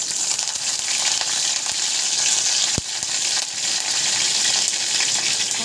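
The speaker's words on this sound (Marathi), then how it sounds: "तेल पण गरम झाले त्याच्यामध्ये आणि थोडंसं जिरे टाकते जास्त नाही टाकत मी त्याच्यानंतर आता कढीपत्ता आणि मिरची टाकते" Cumin seeds, curry leaves and green chilli sizzle steadily in hot oil in a kadhai, a loud continuous frying hiss with a single sharp clink partway through and no talking.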